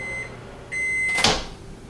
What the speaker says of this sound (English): put this in the microwave, start at 30 seconds, and then take it out and stir it